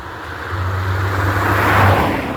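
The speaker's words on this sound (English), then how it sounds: "time to take it for a drive and see what she does" An old four-cylinder car being driven, its engine droning with a steady low hum that swells slightly as it moves along, fairly close and loud with no voices.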